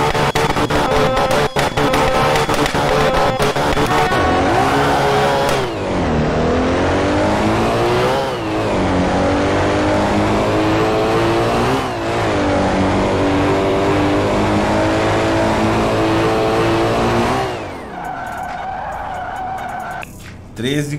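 A VW Gol sleeper car on a drag run revs hard through repeated rising gear pulls, loud and close, with tire noise, before the engine drops off near the end.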